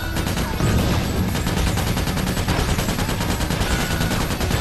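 Rapid, continuous rifle fire from the game Ratchet: Deadlocked, a dense, loud stream of shots with explosive impacts layered over it, running without pause.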